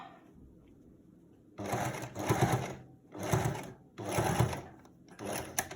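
A sewing machine back stitches through the thick layers of a fabric mask, running in four or five loud, steady bursts separated by short pauses, starting after a quiet opening.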